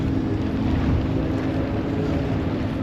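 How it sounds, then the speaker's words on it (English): A steady low rumble of an approaching boat motor on water in Japan mixed with wind noise, continuous and unchanging throughout. "there's a boat coming in"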